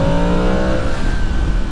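A car is heard on the road during a Yamaha MT-10 motorcycle tour in Germany, a loud, steady engine drone at close range with the pitch sliding gently as the vehicles move.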